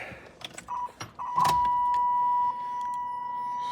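A 1996 Chevrolet Impala SS starts up: keys jingle, a steady warning chime sounds, then a brief crank and the engine catches and settles under the continuing tone, close by.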